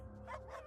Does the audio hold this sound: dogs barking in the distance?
yes